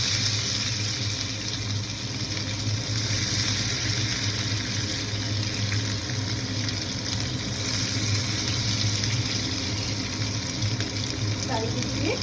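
Chicken pieces fry in hot oil in a home kitchen, giving a steady, even sizzle that runs on without pause, heard close by.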